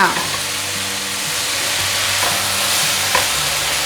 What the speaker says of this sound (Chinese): 所有调味料炒匀了，现在放入红喜菇， 继续翻炒。